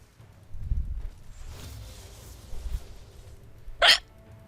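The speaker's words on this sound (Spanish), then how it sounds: "qué mierda mi hipo" One sharp, loud hiccup pops out near the end, close to the microphone, after quieter rustling and soft background sounds during a ranked video game session.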